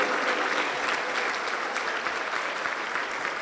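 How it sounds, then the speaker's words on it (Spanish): A church congregation claps together during a service, producing a steady, moderately loud wash of applause for a few seconds. "Aplauso para Cristo Jesús."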